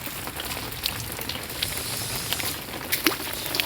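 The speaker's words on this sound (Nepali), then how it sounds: "तपाईँले यहाँ देख्न सक्नुहुन्छ असिना" Hail falling during a big storm in Sikkim, a dense steady patter of hailstones hitting the ground and nearby surfaces, with occasional sharper clicks standing out from the continuous wash.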